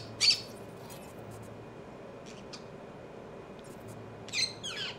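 A bird in Cyberpunk 2077 gives a couple of short, high chirping calls, one near the start and another cluster near the end, over a quiet ambient hum.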